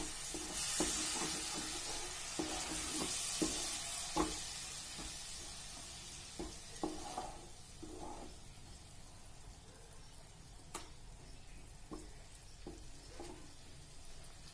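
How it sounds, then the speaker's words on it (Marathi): Tomato paste masala sautéing in oil in a pan, a soft continuous sizzle broken by scattered scraping stir strokes, faint and close, with no voices. "आता यामध्ये टाकूया टोमॅटो पेस्ट. आता छान तेल सुटेपर्यंत परतून घेऊया."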